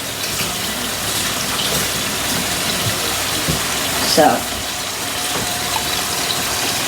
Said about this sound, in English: I added 2 cans, not full cans even, of water